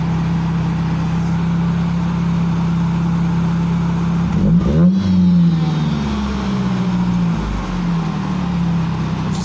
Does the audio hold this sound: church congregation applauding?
no